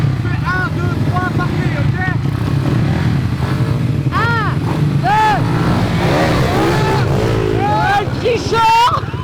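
Small motorcycles race each other outdoors, engines buzzing loudly and continuously with rising and falling revving pitches as riders accelerate close by, while voices shout and talk over the engine noise.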